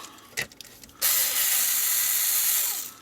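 Screws being undone on a ZX Spectrum 128k case: a couple of brief clicks, then a steady close whirring of a small driver running for about two seconds, with no talk.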